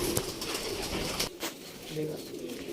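A pigeon coos in a short, soft burst close by, its low murmuring mixed with a steady background hiss and faint voices.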